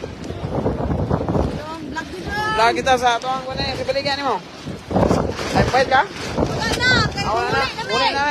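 Strong coastal wind in Oroquieta City buffets the microphone in rough, uneven gusts beneath steady nearby talking.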